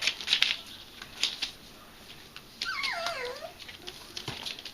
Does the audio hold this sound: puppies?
yes